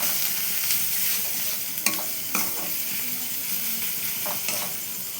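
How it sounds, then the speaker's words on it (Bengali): Spice paste of turmeric, salt, chilli powder and cumin powder is stirred and sautéed in a karahi, a continuous close sizzle broken by a few sharp scrapes of the spoon against the pan. "এবার মশলাটাকে ভালো করে কষাতে হবে"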